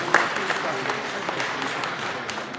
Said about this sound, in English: let's give them all a big round of applause right now